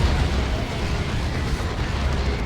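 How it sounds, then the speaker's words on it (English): Cyclone missile launcher explosions hitting targets in Dawn of War 2, a constant loud rumble of booms and blasts with heavy low-end roar, close and busy throughout, without distinct gaps. "Cyclone Missile Launcher. Getting some really good hits."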